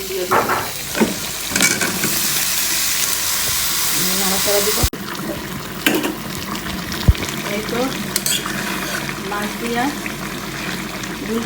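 Ground spice paste fries in oil in a pan for a fish curry, a loud continuous sizzle with spatula stirring and scraping, one sharp knock midway, and a voice briefly heard in the background.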